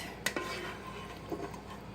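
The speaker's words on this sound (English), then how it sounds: "I'm just going to spoon the veggies out so that there's still a little bit of that juice in there" A spoon scrapes and clinks against a metal pot while boiled vegetables are lifted out of their juice for keto chicken and dumplings, giving a few soft, close taps over a quiet background with no talking.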